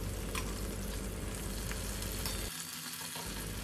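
Whole gunda (glueberries) frying in oil on a low flame, a steady close sizzle and crackle that drops out briefly near the end before resuming.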